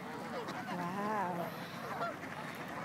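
Geese and ducks squabbling over leftover bread at a lake, several overlapping honks and squawks clustered together, lively and moderately close against outdoor background noise.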